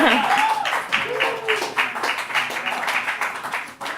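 An audience applauds to welcome saxophonist Neta Raanan, a sustained patter of many hands clapping with a voice talking over the clapping.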